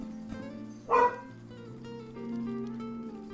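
Jojo the dog gives a single loud bark, close by, followed by quieter background sounds.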